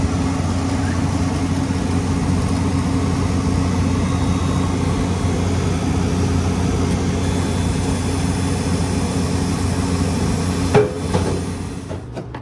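An ice machine's fan motor runs with a steady low droning hum, close and continuous, with a brief clunk near the end.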